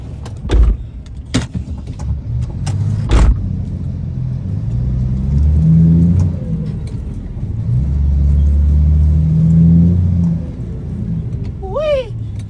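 A truck rumbles and idles as it is driven up onto a weighing scale, with a low engine drone, a few sharp clunks, and someone talking over the noise.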